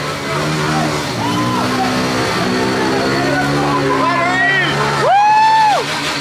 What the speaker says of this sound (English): You can't bring cars in, so they got dirt bikes in here, revving